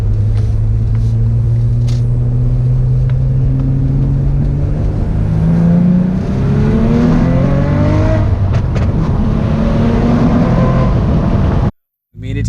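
An Audi B5 S4 with a welded center diff pulls hard on a freeway, its engine droning loudly and rising in pitch through the gears, with a brief cut to silence near the end.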